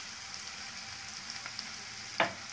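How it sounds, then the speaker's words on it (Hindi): Onion frying in oil with cumin and bay leaf, a faint, steady sizzle with a few soft ticks and one sharp scrape or clink near the end, no speech. "अब हम प्याज को लाल होने तक फ्राई करेंगे"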